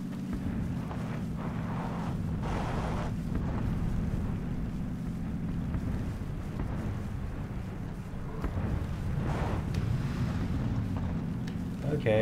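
A vehicle drives in PUBG on PS Battlegrounds, its engine a steady low drone with rushing wind noise throughout, fairly loud and constant.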